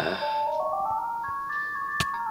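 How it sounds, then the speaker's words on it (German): A phone ringtone going off during a Minecraft game session, a bright electronic melody of steady stepped tones rising in pitch over about two seconds, with no talking. "Da ruft mich gerade jemand an."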